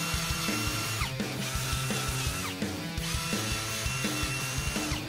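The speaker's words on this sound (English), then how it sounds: "what I use for that is just a drill and a wire brush attachment." Electric drill spinning a wire brush attachment to scrub rust off a brake hub on a 2018 Ford F-150, a steady close whirring grind with repeated brief pauses and restarts.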